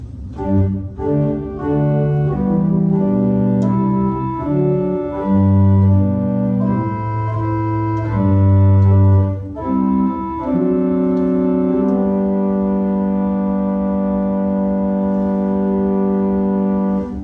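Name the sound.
pipe organ 8-foot open diapason stop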